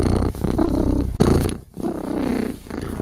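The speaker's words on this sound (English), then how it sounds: "If Cat is purring, Cat is a happy, happy girl." A low, rolling cat purr rumbles close and steady for about three seconds, broken by one brief dip midway before resuming.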